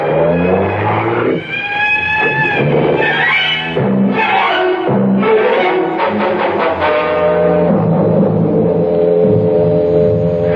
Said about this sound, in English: He's burning rubber to get away fast